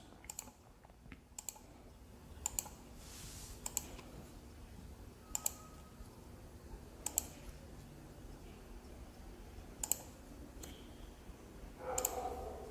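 Mouse clicks on a computer while marking a mass frame by frame in video analysis software, sharp single clicks spaced every second or so, close and fairly quiet over low room hum, no voices.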